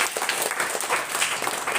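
School students applauding a girl who took first position at a prize distribution, a brief steady burst of dense clapping from a crowd with no voices.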